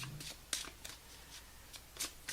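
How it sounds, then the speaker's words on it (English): A tarot card deck shuffled off the top, with a series of quick, crisp card flicks and riffles at irregular intervals, close and quiet in an otherwise still room. "One more shuffle off the top of the deck."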